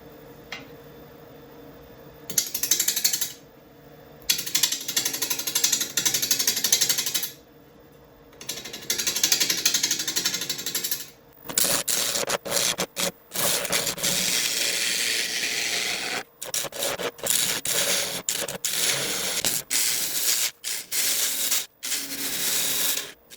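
Woodturning on a lathe at 650 RPM with a half-inch bowl gouge cutting resin and wood, loud scraping and chattering bursts broken by repeated short pauses, close up, with no talking.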